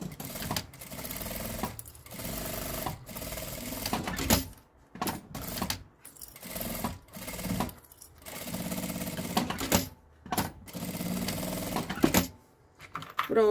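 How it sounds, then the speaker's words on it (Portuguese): A sewing machine stitches over a zipper, fast mechanical whirring runs of varying length broken by short pauses, loud and close with no speech. "E vem passando uma costura, então, com um pé de máquina"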